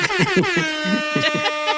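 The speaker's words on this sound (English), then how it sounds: "I need a hip hop air horn for you, Alex" A hip hop air horn sound effect blares in a rapid stuttering series of tonal blasts, loud and close, with talk overlapping.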